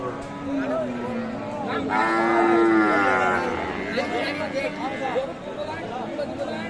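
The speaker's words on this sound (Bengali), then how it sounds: "অনেক বড় গরু কিন্তু" At a busy rural cattle market, a large cow lets out a deep, drawn-out moo that rises and falls over a few seconds. Constant crowd chatter and nearby voices talk over it.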